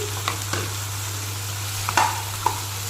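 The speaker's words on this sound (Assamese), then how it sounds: "মাছখিনি দি ধুনীয়াকৈ লৰাই থাকিম" Fish stirred in a hot pan with cumin seeds and coriander powder, a steady close sizzle of frying broken by a few scraping stirs of the utensil against the pan, with no talk.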